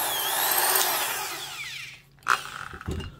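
Metabo/Hitachi 800 watt 3/8-inch corded drill running with its gears turning, a loud steady whine for about two seconds that cuts off, followed by a few brief clicks and knocks.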